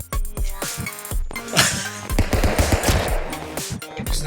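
Rapid bursts of cartoonish gunfire in the stick-figure fighting game Stick Fight, loud and close, with overlapping shots and impact thuds in quick, irregular rhythm.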